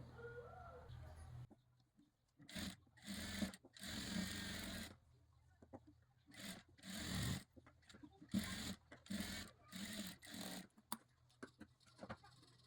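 A sewing machine runs top-stitching on a katori blouse in short separate bursts broken by pauses, near and fairly loud, with a faint hum between runs.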